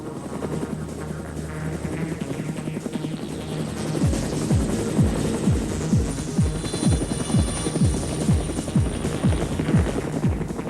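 A rescue helicopter hovers over the ocean during a sea rescue, its rotor thudding steadily and loudly throughout, with a sweeping blade rhythm growing more pronounced halfway through.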